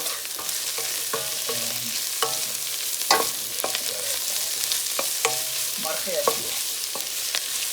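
Chicken frying with cilantro, serrano pepper and garlic, sizzling steadily while a utensil scrapes and clanks against the pan at irregular intervals, close up, with a brief spoken phrase partway through.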